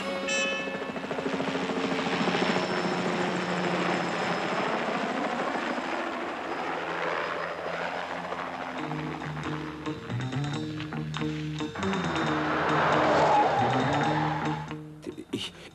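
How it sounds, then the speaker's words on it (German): A helicopter flies nearby, its rotor chop and engine whine running continuously and loudly throughout, swelling slightly toward the end alongside a background music score. "Wir werden jetzt von einem Hubschrauber abgeholt."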